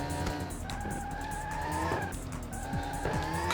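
Race car in Le Mans 24 Hours on PS2 skidding through a corner, its tires squealing in long pitched wails over a loud, steady engine.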